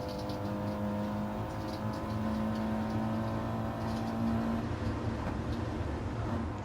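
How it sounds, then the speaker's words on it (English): Alfa Romeo 4C race car in a racing video game pulling hard in second gear, a steady droning engine note rising slightly as it accelerates, continuous and fairly quiet with no voices. "2nd gear, getting the power down. Like I say, that 4C handles brilliantly"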